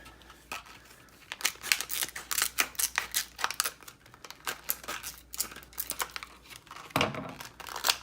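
Plastic packaging holding a replacement O-ring for a Delta kitchen faucet is cut and crinkled open close by, with irregular snips, rustles and tearing crackles in quiet bursts.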